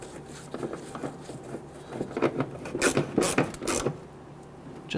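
Fasteners are started by hand on a 2000-2006 Toyota Tundra windshield washer reservoir, giving close, small ratcheting clicks and creaks in irregular clusters.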